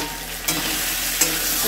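Mango chutney with turmeric and salt being mixed in a pan, giving a steady soft sizzle with two brief scraping stirs, close and fairly loud, no voices.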